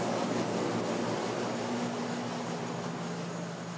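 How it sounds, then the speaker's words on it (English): An indoor air conditioner runs as a steady broadband whoosh with a low constant hum beneath it, fairly loud and unbroken, and no speech is heard. "Kind of loud here with the air conditioner"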